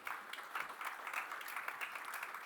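Audience applause at the Unreal Fest 2024 conference after a talk on UEFN and game development, dense steady clapping from a crowd at moderate distance, sustained throughout.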